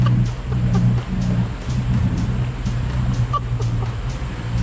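A driverless car rolling down into a creek, with a low steady engine rumble and water churning close by, and a rhythmic ticking knock running through it.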